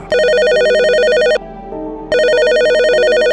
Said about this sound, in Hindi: रात के ठीक 12 बजे रिसेप्शन का फोन बज उठा।